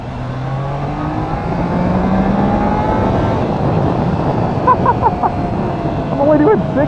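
A 2021 Triumph Trident 660 motorcycle engine climbing past 6,000 RPM, a rising, continuous drone heard from the rider's position beneath wind rush, with a voice talking over it at moments.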